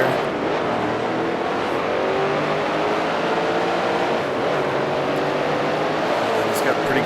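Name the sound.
1971 Can-Am race car engine in Grand Prix Legends video game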